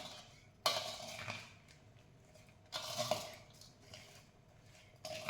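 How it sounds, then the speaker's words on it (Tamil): A spoon stirs a fruit mixture in a bowl with gentle strokes, giving a few soft clinks and wet scrapes at irregular intervals over quiet background. "அதனால் நம்ம லைட்டாக கிளறி விடணும்."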